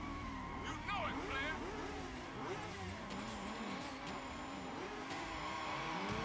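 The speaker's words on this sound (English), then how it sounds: "The engine audio is not great in this game." Lamborghini engine in the racing game Midnight Club: Los Angeles, a steady revving drone with rising and falling pitch sweeps and occasional tire noise, continuous throughout with a voice talking over it.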